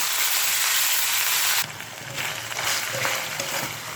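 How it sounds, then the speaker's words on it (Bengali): Ginger-garlic paste with onion frying in hot oil, a loud steady sizzle up close that drops suddenly partway through to a quieter crackle, with no talking. "মশলা আমি তেল ছাড়া পর্যন্ত কষিয়ে নিয়েছি"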